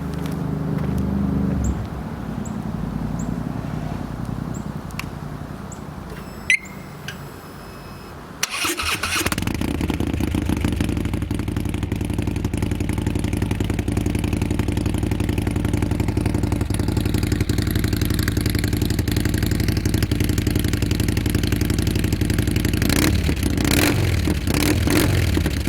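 A 2015 Harley-Davidson Street Glide fitted with Rinehart 4.5-inch DBX45 exhaust pipes and Moto Merge end caps starts up after a quiet idle lead-in, then settles into a loud, deep, steady rumble with brief revs toward the end.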